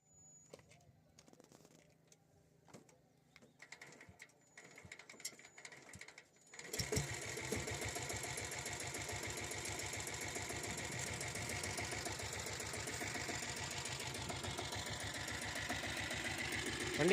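A 7.5 HP diesel Bullet motorcycle with self start is kick-started after some quiet handling sounds, then settles into a loud, steady, thumping diesel idle close by, with a voice briefly heard early on.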